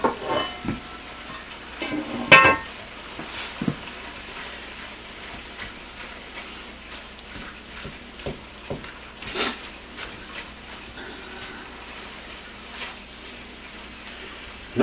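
Ground beef with onion powder browning in a pan on a Dutch oven stew cook, a soft steady sizzle and crackle with occasional louder pops and scrapes, fairly faint and without talking.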